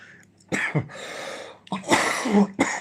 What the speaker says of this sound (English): So if I cough a lot, I do apologise.